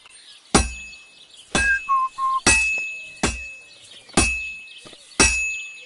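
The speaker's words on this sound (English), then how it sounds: "Now take the hammer and try hitting it a few times." Hammer blows ring out on a sword laid across an anvil, six sharp metallic strikes spaced about a second apart, each leaving a bright clinking ring that fades quickly, heard close with no talking.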